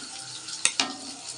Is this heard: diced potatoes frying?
yes